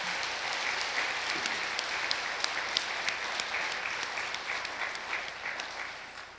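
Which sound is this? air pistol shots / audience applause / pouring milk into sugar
audience applause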